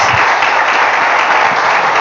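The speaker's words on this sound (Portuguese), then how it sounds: "Vamos, irmãos, aplaudir o Senhor nosso Deus." A church congregation at an evening service applauds, a loud, dense wash of many hands clapping together, steady and unbroken over two seconds.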